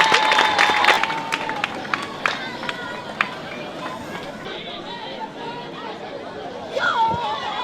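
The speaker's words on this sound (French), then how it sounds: "Applaudissez pour lui, applaudissez pour lui" An audience at a school year-end results ceremony breaks into scattered applause with some cheering and chatter, claps sharp and irregular at first, then thinning into crowd murmur.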